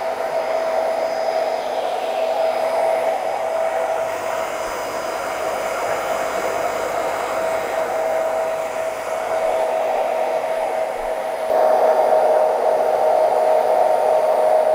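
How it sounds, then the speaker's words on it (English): A hair dryer fitted with a diffuser runs on high heat at medium speed, a steady close whooshing roar throughout with a slight rise in pitch and loudness near the end, and no voices. "So, high heat and a medium speed and a diffuser."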